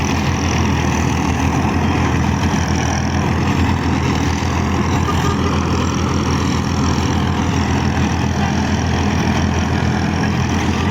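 A 1971 Ford 4000 tractor drives a 48-blade rotavator through dry, dusty field soil, its engine droning loud and steady throughout with a dense, unbroken low rumble.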